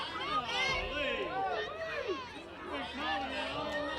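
Spectators murmur and chatter at a GAC college softball tournament game between Southern Arkansas and Henderson State, a moderate, continuous babble of many voices with no single voice standing out.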